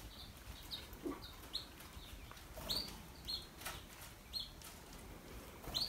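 Small pet canary fluttering and splashing in a bath, giving brief soft bursts of wing flapping scattered over a quiet room background, with faint chirps between.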